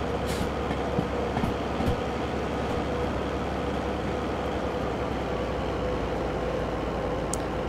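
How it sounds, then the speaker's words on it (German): A train rolls along rails in the rain in Derail Valley, a continuous low rumble with faint rhythmic rail clicks and a steady wash of rainfall. "Schön hier den Plätschern des Regens zu hören und die Schienen"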